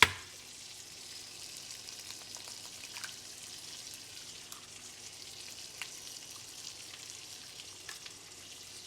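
Eggs hit a hot pan with garlic for a Spanish scramble with asparagus and prawns, giving a steady, even crackling sizzle throughout with small pops and no talking.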